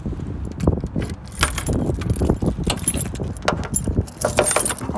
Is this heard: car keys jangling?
yes